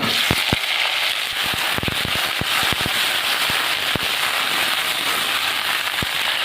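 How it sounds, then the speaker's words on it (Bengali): Cut potatoes frying in hot oil with whole cumin and bay leaf, a dense steady sizzle threaded with sharp pops and crackles that burst out irregularly throughout, no voices present. "আলুগুলো আমি ভেজে নেব।"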